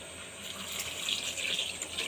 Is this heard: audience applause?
no